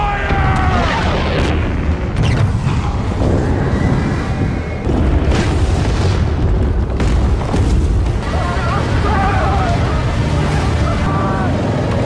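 Nuclear strike explosion in a science-fiction film battle, a loud continuous rumbling roar with deep booming low end and layered cinematic effects sustained throughout, with a brief dip midway.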